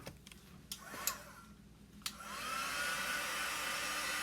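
A hair dryer blows steadily to dry a chalk-paint craft project, starting after a few light clicks and handling knocks, then holding a continuous broadband whoosh close by.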